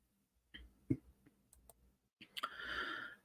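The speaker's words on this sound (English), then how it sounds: "Now stop clicking this can." Several sharp, close clicks from a drink can being flicked during a rock and metal news livestream, scattered irregularly before a longer, louder rustling burst near the end.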